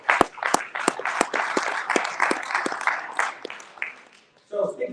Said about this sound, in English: but Mr. Mike Calhoun, I just want to give him a round of applause for bringing this together.